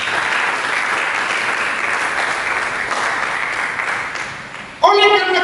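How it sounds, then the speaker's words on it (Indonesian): A church congregation breaks into loud, sustained applause for Jesus during a sermon, steady clapping that fades slightly near the end before a voice cuts back in. "Berikan tepuk tangan buat Yesus."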